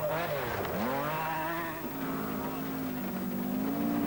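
A 1982 rally car on a Welsh Rally Sprint stage roars loudly, its engine pitch dipping and climbing as it jumps gullies, with a commentator talking over it.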